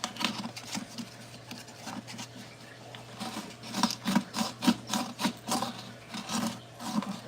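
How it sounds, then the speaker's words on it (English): Rhythmic rasping strokes of sandpaper working along the edges of a boat hull, a steady series of close scrubbing passes over a constant low hum, growing a little louder toward the end. "I'm doing this sanding and cleaning these edges"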